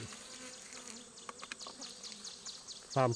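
Bees buzz at a bee farm during a honey harvest, with a faint, continuous droning hum and occasional louder passes close by, ending in a sudden near buzz.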